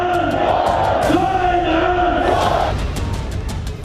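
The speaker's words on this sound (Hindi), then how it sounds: "ये भीड़ जब इमरान खान के खिलाफ नारे लगाती हुई सड़कों पर उमड़ पड़ी" A street crowd in Pakistan chants slogans against Imran Khan, many loud massed voices shouting in sustained rising calls that ease off near the end.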